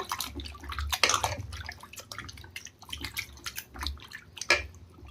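Raw chicken washed in salted water, close splashing, dripping and sloshing in irregular bursts as the pieces are rubbed and stirred by hand.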